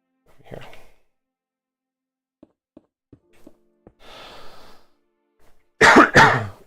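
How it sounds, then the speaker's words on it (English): A sharp, loud double cough close by, preceded by a faint breathy sound, a few soft taps and a long exhaled sigh in an otherwise quiet room. "I had a cough."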